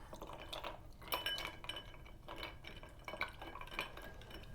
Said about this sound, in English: we're going to be adding that while you give it a stir